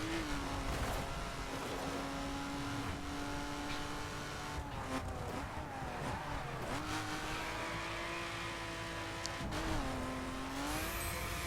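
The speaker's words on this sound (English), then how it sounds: "Coming out of the corner, you go back on the power, you have some wheel spin" A car engine in the video game The Crew revs hard and accelerates in a loud, continuous drone, with tyres squealing as the wheels spin coming out of a corner, rising and dipping across several gear changes.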